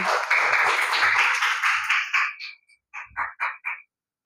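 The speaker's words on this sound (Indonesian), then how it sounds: "tepuk tangan ya" A short voice gives way to silence, then a handful of sharp, separate hand claps in a coding and artificial-intelligence training class. The claps come in a brief quick run, close by and moderately loud.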